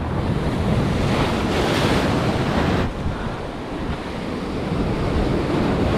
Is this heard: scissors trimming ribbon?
no